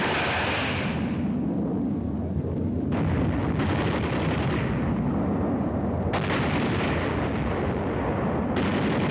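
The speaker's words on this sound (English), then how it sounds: "See, like that explosion" Missile explosions in a combat video game set over a Korean village, a dense continuous roar of blasts and rumble with several sharp new impacts landing every few seconds, loud and close.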